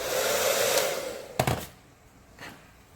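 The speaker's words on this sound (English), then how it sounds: "I am going to be blowing it out with the Jose Ever hair blower" A handheld hair blower dries wet, wavy hair with a loud, steady whoosh that cuts off after about a second, followed by a couple of soft thumps and quiet.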